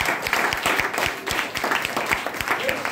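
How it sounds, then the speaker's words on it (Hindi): Loud applause from an audience at a Hindi-language health and wellness talk, dense clapping with sharp individual claps standing out, sustained steadily throughout. "जोरदार तालियां बजा दीजिए।"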